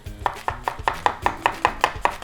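A knife chops apple into pieces on a cutting board, with about eleven close, evenly paced thuds and crisp snaps in a steady rhythm and no talking.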